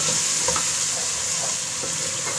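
Masala frying in oil with salt, turmeric and chili, stirred in a pan for aloo anday ka salan, a dense continuous sizzle with soft scraping strokes, close and steady.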